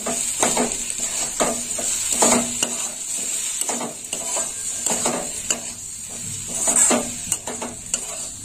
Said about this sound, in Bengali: আর পোস্ত দেওয়ার পর একটু নেড়ে চেড়ে নেব।